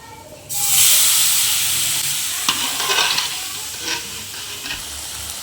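Mutton pieces frying for mutton curry, a loud hiss that bursts up as the meat hits the hot pan and then settles into steady sizzling, with scraping stirring clinks.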